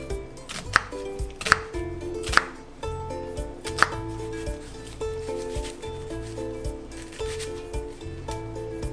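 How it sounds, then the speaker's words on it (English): A knife chopping through an onion on a board, trimming the bottom and halving it, giving a series of close, crisp cutting strokes at an uneven pace with soft rubbing sounds in between and no talking. "Onion. Cut off the bottom. Cut this in half."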